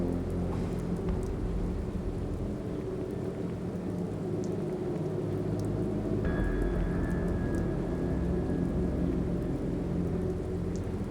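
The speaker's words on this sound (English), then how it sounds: "It's raining again." Steady rain falls throughout a rainy night scene in Brooklyn's Greenwich Village in the video game The Moment of Silence, a continuous broadband hiss with a low rumble, and a thin sustained tone enters partway through.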